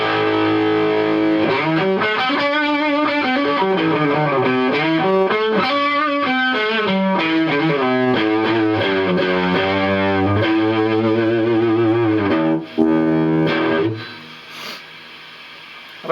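Heavily distorted electric guitar on the bridge pickup through a Gollmer Fat Dist pedal plays sustained chords and bends, loud and continuous, fading into a quieter buzzing tail near the end.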